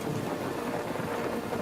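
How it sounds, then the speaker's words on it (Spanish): Steady rain pouring in a thunderstorm, a dense continuous hiss with a low rumble beneath, fairly loud and with no voices. "se vio atrapado en una espectacular tormenta eléctrica"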